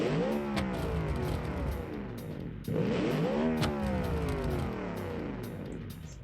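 A petrol V8 in a pink car in the Automation game, revved hard twice in a row, each climbing whine rising sharply and falling away, loud and near with no talk.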